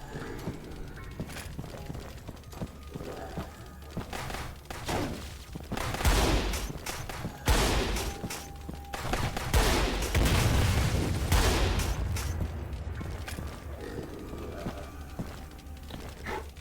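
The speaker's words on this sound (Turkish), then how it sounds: "Biraz pompalı kullanalım." Shotgun blasts from a Quake- and Doom-style first-person shooter, a run of heavy booming shots at irregular intervals over constant game noise and music, loud and close, with no talk.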